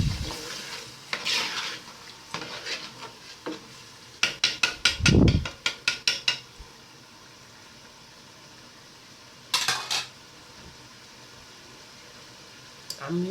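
Washed rice is mixed into a pot of stew for jollof rice: scraping and stirring strokes, a quick burst of rhythmic spoon knocks in the middle, then quieter pauses and a final clatter.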